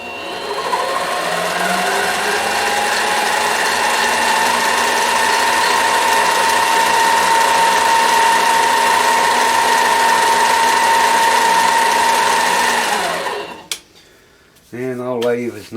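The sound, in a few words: repaired lathe running in reverse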